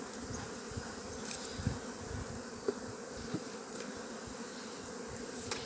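Honey bees buzz steadily around open hive boxes and brood frames at Maungatautari, a continuous soft hum with a few louder passes close by.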